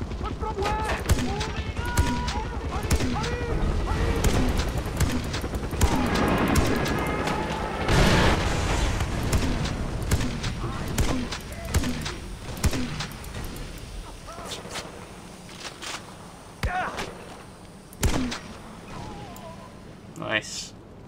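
Gunfire and mortar blasts from Far Cry 4 gameplay: dense bursts of shots and heavy booms that rumble throughout, with a voice talking over the fighting in places.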